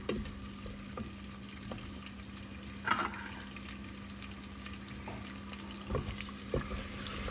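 Ground garlic frying in a pan for a black lentil and vegetable dish, a steady soft sizzle running throughout with a few brief stirring clicks and scrapes, close and moderately quiet with no talking.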